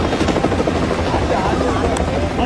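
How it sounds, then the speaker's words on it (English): A Nepal army or police helicopter searching for missing persons after devastating floods, its rotor chopping steadily and loudly throughout, with a voice speaking over it. "The Nepal army and the police have deployed helicopters to search for missing persons."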